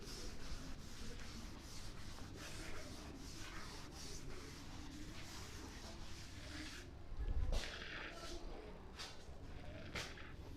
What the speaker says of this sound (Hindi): इसे भी मैं एक बार रब कर दे रहा हूँ